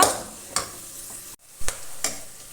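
Shallots sautéing in oil for a Kerala-style chicken curry: a soft continuous sizzle broken by several sharp scrapes and clanks of a spoon against the pan.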